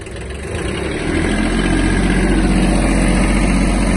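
A Kubota XB-1 Japanese mini tractor's engine runs steadily close by as it pulls off in low reduction gear, a continuous mid-pitched drone that swells slightly in the first second and then holds loud and even, with no talk.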